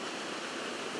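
A waterfall pours in a dense, steady roar of rushing water, loud and unbroken for about a second, with no voices.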